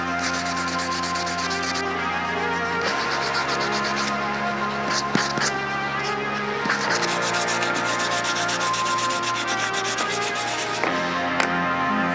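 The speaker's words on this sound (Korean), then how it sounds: "이제 사포는 어, 사포 마감은 다 된 것 같습니다." Scrap wood for a joinery craft piece is hand-sanded with sandpaper in a steady, continuous rubbing rasp over a constant low machine hum, loud and close throughout with no talk.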